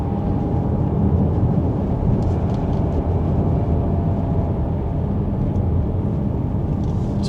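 Steady interior road noise in a Kia Sorento hybrid on the move, a constant low rumble and tyre roar with faint wind hiss, even and unbroken throughout with no talking.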